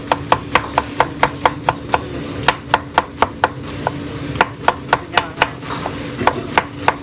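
A knife chops rapidly on a board, sharp regular knocks in a quick steady rhythm, close and loud.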